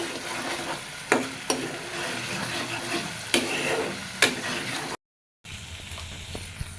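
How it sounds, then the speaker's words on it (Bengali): Spice masala for a duck egg curry is stir-fried hard, a continuous oily sizzle broken by several sharp spatula scrapes and knocks against the pan, with a brief dropout before the frying resumes. "খুব ভালো মতো মশলা কষায় নিতে হবে।"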